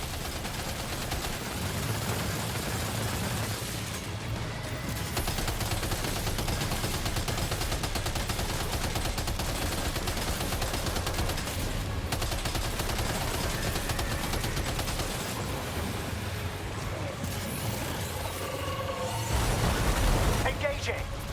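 Rapid automatic weapon fire in the game Death Stranding 2, steady dense bursts over a rumbling vehicle and music bed, with character voices speaking over the combat throughout.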